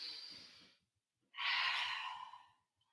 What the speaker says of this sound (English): Take 1 more big breath.